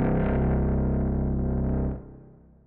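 An orchestra pitched down two octaves sounds alone as a loud, dense, distorted low drone, then cuts off sharply after about two seconds and fades into a dark tail.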